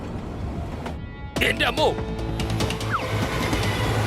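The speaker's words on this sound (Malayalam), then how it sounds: "ട്രെയിൻ വരുന്നുണ്ട്, സാറ് കണ്ടില്ലേ?" Approaching train: a rising rumble and clatter that grows louder after a sudden loud onset, continuing steadily to the end, with people talking and exclaiming over it.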